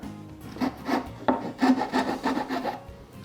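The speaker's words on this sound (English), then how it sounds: "Now I'm only just going to make a small cut on the edge right here." A hand saw makes a short, shallow cut into the edge of a wooden box. It gives a run of about eight close, rhythmic rasping strokes with no voices.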